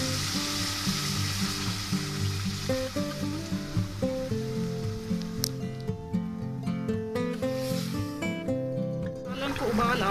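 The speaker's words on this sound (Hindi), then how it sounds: "सालन को उबाल आ रहा है।" Chicken and dry plum curry with yogurt, green chillies and water bubbles and sizzles steadily in a pan, a continuous close cooking hiss beneath background music.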